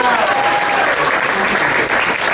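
An audience claps steadily in a dense wash of applause, with a few faint cheers mixed in, sustained for the whole moment.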